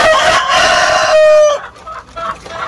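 Black Australorp chickens in a coop, with a loud, close rooster crow held for about a second and a half, then softer scattered clucks from the flock.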